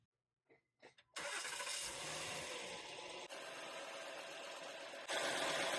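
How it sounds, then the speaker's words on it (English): A Honda car engine cranks briefly a few times, then catches and settles into a steady, loud idle just after an oil change, with the running note shifting slightly midway. "Now we are going to start the engine and check for leaks."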